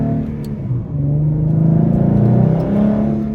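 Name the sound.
2014 Mustang 3.7L V6 exhaust, Roush axle-back, shorty headers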